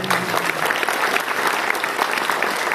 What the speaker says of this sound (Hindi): ताली होनी चाहिए जोरदार